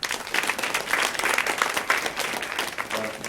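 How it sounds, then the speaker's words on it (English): Audience applause at a talk on machine learning and AI in healthcare, a steady, fairly loud wash of many hands clapping for about three seconds with no voices over it. "Join me with a round of applause,"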